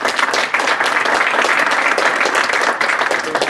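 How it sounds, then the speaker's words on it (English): An audience applauds guests at a community talk on work and community, dense steady clapping filling the whole moment at fairly close range, with no pause or voices standing out. "I want folks in the audience to give our guests a round of applause"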